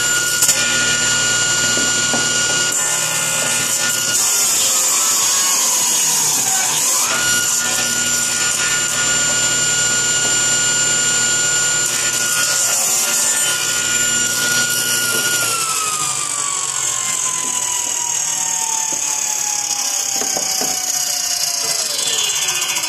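A loud, continuous machine whine of a milling tool cutting wood for a wooden pallet pry bar, with shifting pitch and steady grinding noise throughout.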